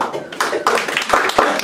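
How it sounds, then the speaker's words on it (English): Married couples in a comedy convention audience clap in a short, uneven burst of applause, close and loud, with a few sharper individual claps standing out. "Clap it up if you're married."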